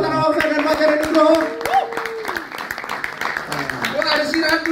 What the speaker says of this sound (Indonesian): Sekali lagi teman-teman tepuk tangan buat Dewa Tara Ausa dan Fajar Nugroho.